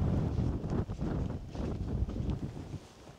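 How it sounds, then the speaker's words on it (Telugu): Strong gusty wind buffets the microphone with steady low rumbling and rustle on a fall morning walk across Kinzua Bridge in Pennsylvania, continuous and close throughout with no voices. "విండ్ మామూలుగా రావట్లేదు."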